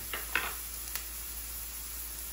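Large onions frying in a pan for a spinach and baby chicken curry give off a steady, soft sizzling hiss, with a couple of light utensil clinks near the start.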